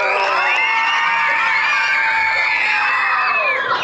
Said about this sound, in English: so her daughter, clap it up for that